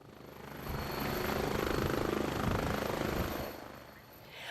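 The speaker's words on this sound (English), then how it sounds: "Watching the North Memorial Air Care helicopter take off" A North Memorial Air Care air ambulance helicopter lifts off during a National Night Out event in Maple Grove, its rotor beating in a steady, loud throb that swells and then fades as it departs.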